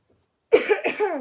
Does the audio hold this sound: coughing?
yes